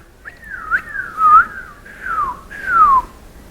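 A class whistles together, voices imitating echolocating bats with several loud downward-sloping chirps that overlap in a ragged group, each sliding down in pitch.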